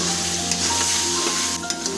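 Potatoes fry in oil in a kadai, giving a steady close sizzle with occasional stirring scrapes and faint background hum.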